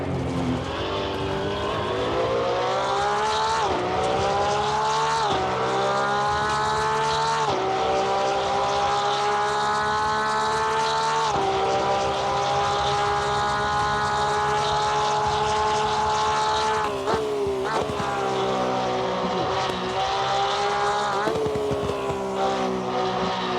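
A Porsche 992 GT3 R racing around Suzuka in Assetto Corsa Competizione, its engine screaming loud and continuous, pitch climbing through the gears with sharp drops at each upshift and braking point.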